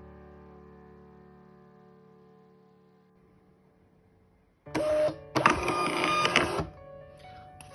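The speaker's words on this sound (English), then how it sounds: "choose the right printer, then I click print." An Xprinter XP-420B label printer printing a test label, first a low steady hum, then a loud mechanical whirring and feeding burst lasting about two seconds, heard close and alone.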